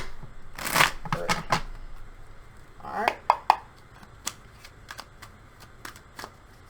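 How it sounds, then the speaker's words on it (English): Tarot cards shuffled by hand in a few quick riffling bursts, close and fairly quiet, with soft card taps and plops between them and a faint voice murmuring early on. "3 shuffles I'm hearing."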